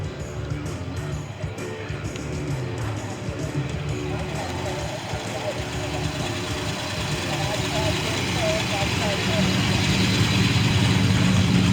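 1967 Ford Fairlane with gold stripes and a 5-speed, engine running steadily at a Fairlane club car show, with crowd chatter and voices throughout and the engine growing somewhat louder toward the end.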